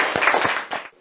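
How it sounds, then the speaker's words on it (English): An audience at a bank-sponsored event claps for about a second, a brief burst of mixed hand claps that quickly fades out. "Give them a round of applause, ladies and gentlemen."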